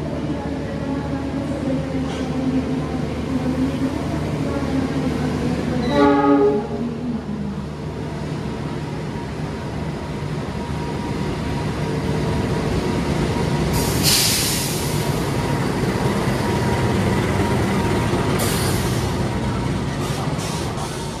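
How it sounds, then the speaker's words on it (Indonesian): A Supas commuter train from Surabaya Kota rolls into a station on track 2 with a steady low rumble of wheels on rails, a brief horn blast near the middle, and faint voices around it. "Persiapan masuk di jalur 2, yaitu kereta komuter lain Supas dari Surabaya Kota"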